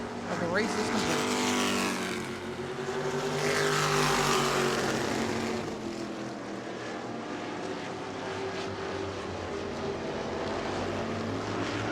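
E-Mod race cars lapping New Smyrna Speedway at night, loud engine roars sweeping past with rising and falling pitch, then a steadier distant drone, under continuous commentary from a race announcer.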